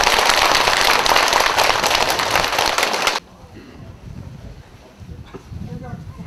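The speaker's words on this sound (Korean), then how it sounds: "다같이 박수 부탁드립니다." An audience at a Buddha's Birthday dharma service at a Korean temple bursts into dense, loud clapping for about three seconds, then it cuts off abruptly into quiet room tone with faint low murmuring.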